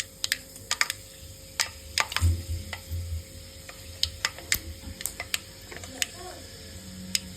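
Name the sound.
mustard seeds spluttering in hot sesame oil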